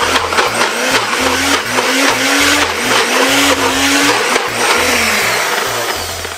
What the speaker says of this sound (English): Don't blend it, do not blend it like you're making soup. You give it a quick blend.